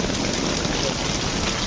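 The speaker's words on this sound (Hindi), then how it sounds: "बारिश आ गया अभी।" Steady, dense hiss of rain falling close by, continuous and even throughout, with no voices.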